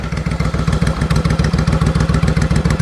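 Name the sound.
Suzuki Intruder VS1400 motorcycle engine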